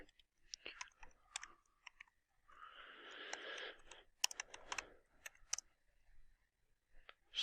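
Bursts of computer keyboard typing, a run of sharp clicks and clattering keystrokes, close and fairly quiet, with a short stretch of broader noise midway and pauses between the bursts.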